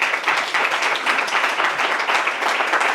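An audience applauds at a talk on female villain archetypes in cinema, a dense, steady round of clapping from a crowd, sustained for a few seconds.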